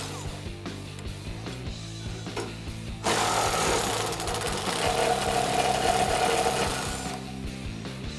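Bolts on a rear bumper of a 2005-2015 Toyota Tacoma being backed out with a 19 mm socket, a steady mechanical whirring and rattling ratchet-like drone that swells louder after a few seconds and runs continuously, close up with no talk.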